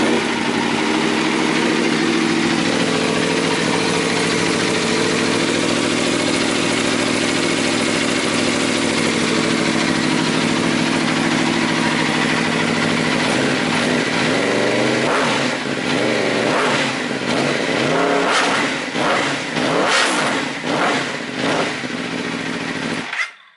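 An Aprilia RSV4 RR sport motorcycle, a special edition, starts and settles into a loud, close steady idle, then near the end gives a rapid series of sharp throttle revs before cutting off.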